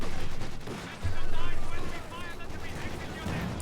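Panzer IV J tank cannon fire in Company of Heroes 2, a heavy boom under a caster's fast talk amid dense battle noise, with a second lower rumble near the end.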